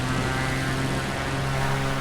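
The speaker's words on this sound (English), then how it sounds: "But there's still planes coming in and out." Steady droning airliner engines hum continuously in Flight Simulator during a Chicago winter storm, a close, even propeller-like roar with no talk.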